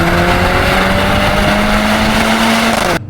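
A 2025 Mercedes-AMG GLC 63 S E-Performance four-cylinder engine holds a steady, loud drone for about three seconds, its pitch easing slightly downward, then cutting off abruptly at the end.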